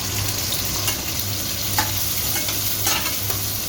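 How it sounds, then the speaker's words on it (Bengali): Potatoes fry in a pan with a loud, continuous sizzle and faint stirring scrapes, close by and without talk. "আলু পটল চিংড়ি করব, তাই আলুটা ভাজছি।"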